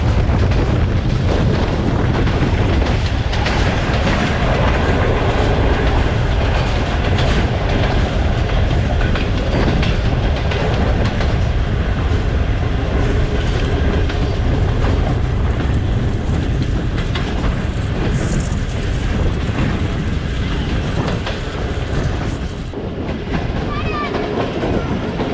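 Fareed Express passenger train in Pakistan slowing on its approach to Kasur Junction: a loud, continuous rumble and roar of the moving train, with clickety-clack of wheels on the rails, heard from inside throughout.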